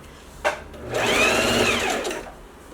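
Sewing machine running a seam on a lined coat in a home sewing session: a short click, then a steady whirring run of stitching for about a second and a half that slows and stops.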